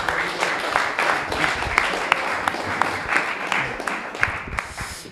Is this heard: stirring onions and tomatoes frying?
no